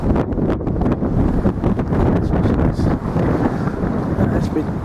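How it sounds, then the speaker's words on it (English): Strong wind buffets the microphone with a loud, continuous rumbling roar that gusts unevenly throughout. "it has been fairly windy"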